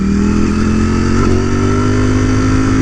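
A 2020 Ducati Streetfighter V4S, 208 horsepower, revs loudly and close by, its engine holding a sustained high-pitched howl with a slight rise in pitch before it cuts off sharply.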